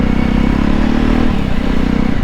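A Jawa BS4 motorcycle's exhaust thrums in a steady low burble while being ridden, the engine note loud and close with a slight dip and recovery midway, no voices.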